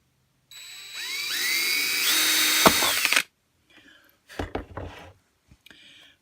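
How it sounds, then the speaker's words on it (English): A small power drill with a small bit boring a hole in a tin lid for char-cloth fire starters whines loud and steady for about three seconds, its pitch sweeping upward, then stops, followed by a few scrapes and knocks. "I go right inside the O there and I drill out a small hole"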